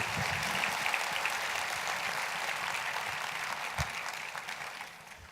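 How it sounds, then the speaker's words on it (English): An audience at a motivational talk on bouncing back from adversity applauds steadily, a dense continuous clapping that holds for several seconds and then tapers off at the end. "Give yourselves a round of applause."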